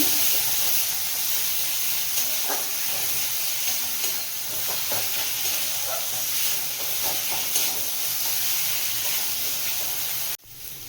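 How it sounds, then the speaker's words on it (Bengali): Boiled soybeans with salt are stirred in a frying pan, giving a continuous sizzle and hiss with scattered scraping strokes throughout, close and steady, ending abruptly, with no talking. "পরিমাণ মতো নুন দিয়ে নাড়িয়ে নিচ্ছি"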